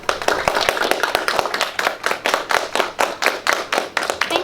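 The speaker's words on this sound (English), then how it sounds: "Give him a clap." A small audience at a primary school honours presentation claps in distinct, evenly spaced hand claps, a quick rhythmic series of sharp slaps that stays close and fairly loud.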